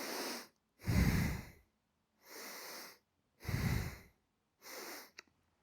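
Slow, deep breaths drawn into the ribs during a scoliosis exercise, five close breaths alternating inhale and exhale, each about a second long, separated by short silences and ending with a small click.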